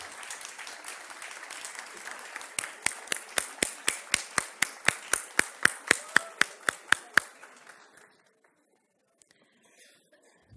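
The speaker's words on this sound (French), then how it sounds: "je vous demande de les applaudir" A psychoanalysis conference audience in Lebanon applauds a reading group. Scattered clapping gives way to slow, loud, rhythmic unison claps, about twenty evenly spaced beats. They stop abruptly, leaving near silence with a few faint sounds.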